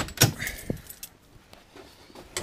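Car keys for a turbocharged Volvo 240 jangle up close in a few quick metallic bursts, then settle into quiet handling noise.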